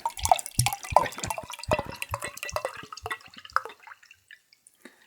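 Flat homemade apple cider pours with gurgling, splashing liquid that is dense at first and then thins out into a few scattered drips near the end.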